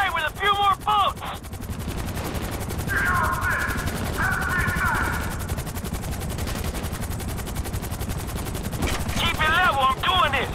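Sustained rapid gunfire from a helicopter in Grand Theft Auto V rattles continuously over a droning engine, with shouting voices breaking in at the beginning and end.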